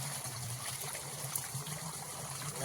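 Water runs along a farm irrigation channel with a soft, steady trickling and gurgling, faint and continuous with no voices.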